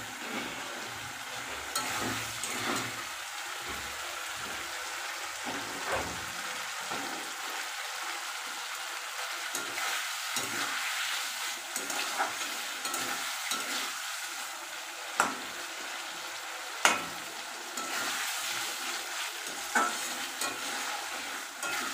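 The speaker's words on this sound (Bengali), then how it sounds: "যে টমেটো কেচাপ দিয়ে দিয়েছি, ভালো করে এবার এটা নাড়াবো।" Potatoes and tomato ketchup stirred in a frying pan, a steady close sizzle with repeated scraping strokes of the spoon throughout, no voices.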